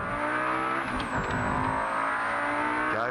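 Lamborghini rally car on the circuit stage at Simmons Plains during the Targa Tasmania tarmac rally, its engine screaming at high revs through upshifts and throttle changes, loud and continuous with a brief lift mid-run.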